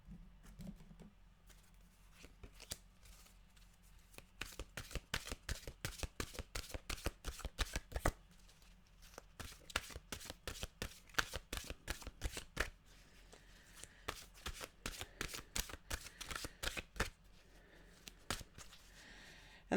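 Tarot mantra cards being shuffled by hand in repeated quick riffling bursts, close and fairly quiet, with brief pauses between the runs.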